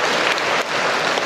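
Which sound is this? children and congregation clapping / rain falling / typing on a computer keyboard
children and congregation clapping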